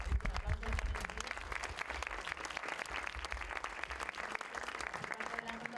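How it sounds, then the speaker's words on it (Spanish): Sustained applause from a conference audience after a panel discussion on dubbing and voice-over, dense and steady throughout with a slightly stronger burst at the very start. "yo creo que el aplauso es merecido."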